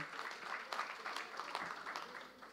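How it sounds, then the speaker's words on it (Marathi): Applause from the audience at a women's festival event welcoming the artists, a dense patter of many hands clapping at once, steady and somewhat distant, at low level and lasting a couple of seconds with no clear talking. "त्यांचंसुद्धा आपण जोरदार टाळ्या वाजवून स्वागत करूया."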